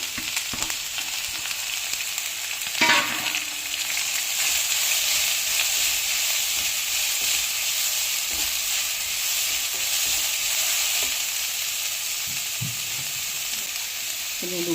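Chopped vegetables, including carrots, fry in oil with mustard seeds and curry leaves, giving a steady, close hiss and sizzle that runs throughout with faint stirring.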